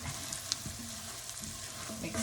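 Paprika frying and being stirred in a pot for Hungarian goulash, a steady close sizzle with soft scraping stir strokes running throughout, no talking.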